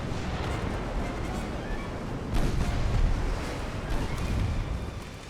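Naval artillery from warship guns fires in a fleet engagement in a naval strategy game, heavy booms rolling under a steady rumbling din, with stronger blasts clustered midway and toward the end.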